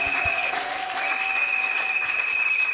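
A church congregation applauds at a convention service, steady dense clapping from a large crowd throughout, with a sustained tone ringing underneath.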